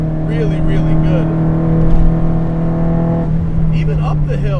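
A modified, SR20-swapped Nissan S13 240SX climbs a hill with a steady, even engine drone heard from inside the car, while people talk over it.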